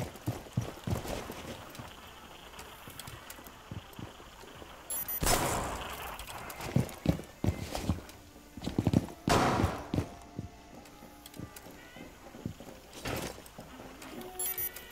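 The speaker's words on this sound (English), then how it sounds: "I hear someone coming this way, Skywolf." Footsteps of an approaching player in Rainbow Six Siege on the Chalet map, a quick run of light steps under louder game noise with sharp bursts and thuds around them, no talk.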